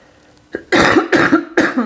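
Three harsh, close coughs in quick succession, each a short burst, following a brief throat sound.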